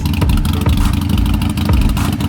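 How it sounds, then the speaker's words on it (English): A 2020 Harley-Davidson Sportster Iron 883, a lower-displacement V-twin with a Vance and Hines exhaust, revs close up. The deep, loud engine rumble surges in a few quick throttle blips. "for a lower displacement engine, this thing sounds freaking sweet"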